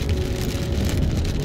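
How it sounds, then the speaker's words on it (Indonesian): Steady, dense rain falling outdoors at Prince Hussam Park in Al Baha, Saudi Arabia, a loud continuous hiss with a low rumble beneath it and no voices. "Lagi suasana hujan."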